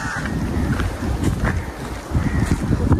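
Strong wind sweeps across a seaside fort at Suvarnadurg, buffeting the microphone in loud, gusty bursts with a low roaring rumble and no voices.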